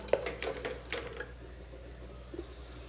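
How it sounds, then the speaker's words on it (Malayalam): Liver masala is stirred in a pan, giving a few quiet scraping and clinking strokes early on, then a faint, sparse tap near the end over low background noise. "ഒരു 2 മിനിറ്റ് ഇങ്ങനെ ഇളക്കി കൊടുത്തു കഴിഞ്ഞാൽ ആ പച്ചമണമൊക്കെ മാറി"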